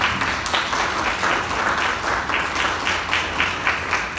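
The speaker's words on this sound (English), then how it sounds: "can we give ourselves another huge round of applause for going through so much in the past year?" Graduates of the Class of 2021 give themselves a big round of applause at a school ceremony, dense steady clapping from a large group filling the room, sustained and fairly loud throughout.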